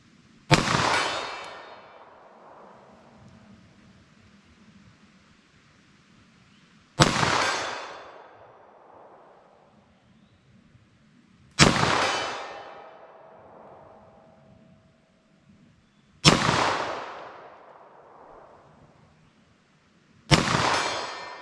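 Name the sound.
9mm pistol shots fired at 75 yards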